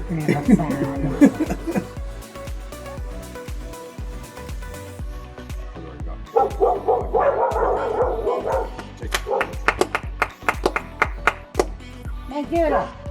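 Doodle dogs bark, yelp and howl in bursts, with people talking and chuckling over them during a family summer boating trip at a lake.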